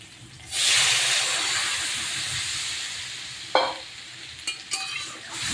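Water poured into a hot pan of frying taro and fish, erupting in a sudden loud hiss of steam that slowly fades, followed by a few sharp clinks and scrapes of stirring.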